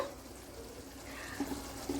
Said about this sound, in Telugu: ఈ మరిగే వాటర్లో ఈ రైస్ వేసుకుందాము